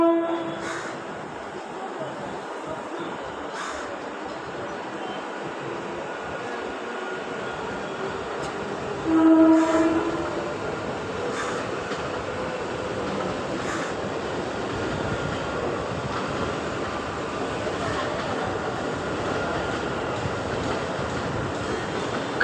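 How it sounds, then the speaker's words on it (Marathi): A Mumbai slow local train to Titwala at platform 1, a continuous rumble of the train with a brief horn blast partway through, moderately distant under station ambience, no talking. "प्लेटफॉर्म क्रमांक 1 पर आई हुई लोकल 3:24 की टिटवाला जाने वाली ही लोकल है।"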